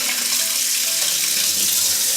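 Lukewarm tap water runs steadily into a stoppered sink, used to water potted succulents from the bottom up, a constant close hiss and splash with no talking.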